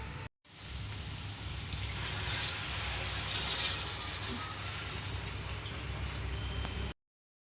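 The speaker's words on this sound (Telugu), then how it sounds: "వాటర్ అయితే పోసేద్దామండి" Water pours into a pan of broad beans and tomatoes cooking as a curry, a steady rushing hiss lasting several seconds before stopping abruptly.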